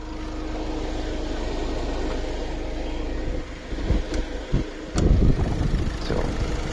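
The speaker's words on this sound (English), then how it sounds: "Being diesel, it will have some huge noise." A Ford Figo Aspire diesel engine idles steadily with the bonnet open, a low, even rumble heard up close, joined near the end by a few knocks and clunks.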